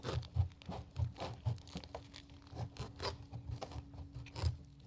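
A knife saws through a cactus stem to take a cutting, a run of rough, crunching scrapes repeated in a steady rhythm, close and fairly quiet.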